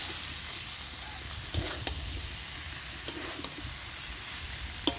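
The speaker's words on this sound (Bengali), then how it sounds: "কাঁঠাল আর আলুটা দিয়ে দিচ্ছি।" Fried jackfruit and potato pieces tipped into hot, oil-releasing spice paste in a pan set up a steady sizzle and hiss, broken by a few sharp stirring knocks, close and fairly loud with no voices.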